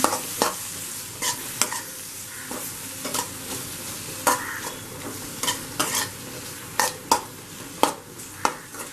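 Sliced tomato is stirred into Kerala-style fish mappas simmering in a pan, with a steady low sizzle broken by frequent sharp spoon scrapes and clinks against the pan in an irregular rhythm, and no speech.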